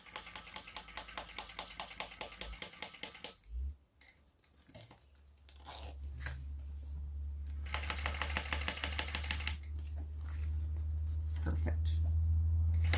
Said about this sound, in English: I'm just going to stitch that on right up against the zipper teeth